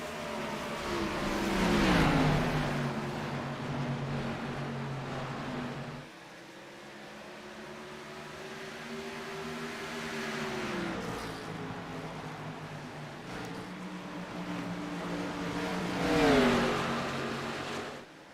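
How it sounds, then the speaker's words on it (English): Race car engines in a simulated USA Pro Cup Series race at Iowa Speedway rev and accelerate continuously, rising and falling in pitch as cars pass and shift, loud and sustained with no talk. "The Wheels 4 Warriors USA Pro Cup Series drivers hot and heavy on the gas pedal right here."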